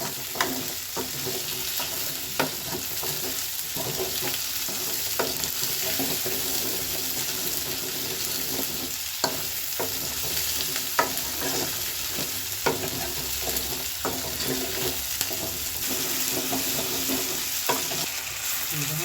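Garlic and shallots frying in a pan for a tangy gojju, a continuous close sizzle punctuated by regular scraping stirs and small clicks of a spoon.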